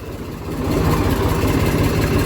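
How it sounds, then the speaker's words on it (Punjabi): A tractor engine runs steadily close by on a wheat field before spraying, a low rumbling idle that grows a little louder after the first half second and holds. "ਟਰੈਕਟਰ ਦਾ ਵੀ ਤੁਹਾਨੂੰ ਪੂਰਾ ਸ਼ੋਰ ਸ਼ਰਾਬਾ ਦਿਖ ਰਿਹਾ ਹੋਊਗਾ"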